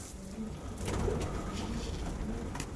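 Domestic pigeons being readied for a show coo steadily in a loft, soft throaty calls overlapping close by with a few brighter flutters and clicks, no voices.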